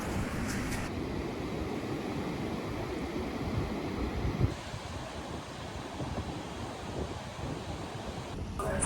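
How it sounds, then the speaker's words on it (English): Cold, blustery wind buffets the microphone on a beach near Los Angeles, with surf rushing continuously underneath; the roar dips slightly midway and swells again at the end. "It's really cold out here, pretty windy in the beach area."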